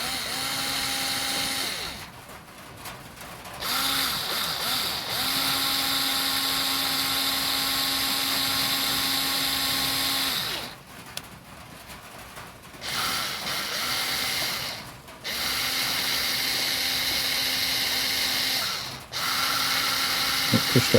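A powered tool spins a valve against its seat while lapping the cylinder head of a 1980 Yamaha XJ650, producing a loud, close whirring grind in several long bursts separated by short pauses.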